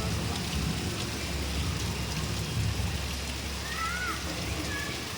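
Heavy rain hisses down in a steady, dense wash, with a low rumble beneath it, while faint chirps of birds show up briefly near the end.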